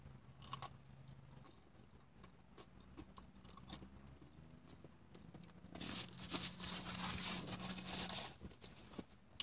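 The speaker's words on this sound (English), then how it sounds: "is the potato wedge from KFC. It has a very good crunch to it." Someone bites into and chews a crunchy KFC potato wedge up close, with soft scattered crunches at first, then a louder burst of crisp chewing near the end.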